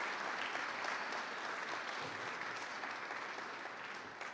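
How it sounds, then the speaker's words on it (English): Steady crowd applause at an outdoor university topping-off ceremony for a new academic building, a dense even wash of many hands clapping at moderate level, with no voices over it. "Let's give her a round of applause."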